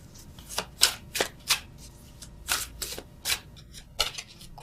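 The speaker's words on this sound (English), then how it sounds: "So let me just see that Four of Cups." Tarot cards being shuffled by hand, close and crisp, in about eight quick riffling bursts with short pauses between them and no talking.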